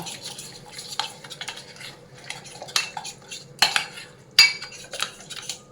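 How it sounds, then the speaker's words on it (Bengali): A spoon clatters and scrapes against a metal pan while oil, curry leaves, cumin and dried red chilli are stirred together, producing irregular clinks and taps over a faint background sizzle. "তেলের সাথে কারি পাতা জিরে শুকনো লঙ্কা এটার মধ্যে দিয়ে দিলাম এটা ভালো করে মিশিয়ে নেব"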